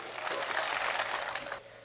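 Audience at a Hindi comedy poetry gathering claps in a short, dense burst that fades out after about a second and a half.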